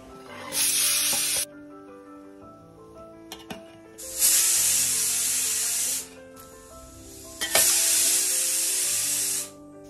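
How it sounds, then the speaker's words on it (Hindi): Silkworms dry frying in a pan, heard as three loud bursts of sizzling hiss that each last a second or two, separated by quieter gaps with faint clatter. "तो यहाँ पे मैं ड्राई फ्राई कर रहा हूँ"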